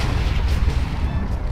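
Explosions in Minecraft, a loud continuous rumble of overlapping blasts and booms with no pauses, heard without any speech.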